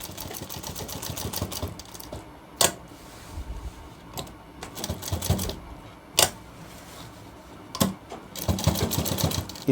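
Sewing machine stitching around the crossed corner of a shirt cuff, a steady run of fast mechanical clatter broken by short pauses and sharp clicks, close and alone with no voice.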